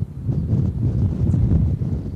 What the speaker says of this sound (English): Lori, Calvin, it is a very windy afternoon